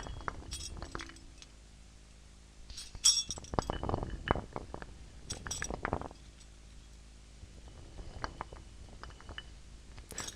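Small rocks and a set of keys are shaken and clinked together up close, giving irregular bursts of bright metallic jingles and stony clicks, louder in the middle and trailing into sparse taps.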